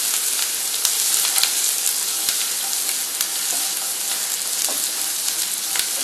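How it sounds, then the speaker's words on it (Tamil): Onions and curry leaves sautéing in a hot pan for a potato kurma, a dense, continuous crackling sizzle with occasional stirring scrapes, close and loud from start to finish, with no voices. "வெங்காயம் வந்து நல்லா வதங்கணும்"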